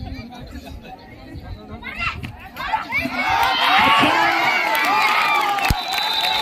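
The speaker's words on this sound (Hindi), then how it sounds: "दर्शक ताली बजाते रहे" Spectators at a girls' state kabaddi final between Patna and Nalanda in Bihar burst into loud cheering and shouting that swells and holds, with an announcer's voice heard over the crowd before it rises.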